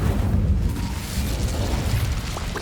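The Incendio fire spell is cast in the video game Hogwarts Legacy, a dense rumbling burst of flame with a low roaring body that holds steady throughout, no voice present.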